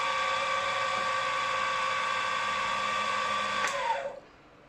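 A small drill bores a hole in a part for a 2-inch scale Fowler showman's traction engine, a steady high whine running for about four seconds before winding down and stopping.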